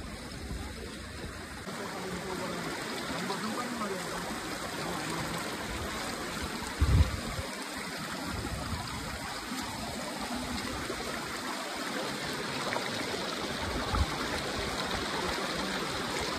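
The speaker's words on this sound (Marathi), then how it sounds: "पाण्याचा प्रवाह वाढलेला आहे." Water from a swollen stream in the Konkan region flows and trickles steadily, with a continuous broadband rush and a couple of brief thumps partway through.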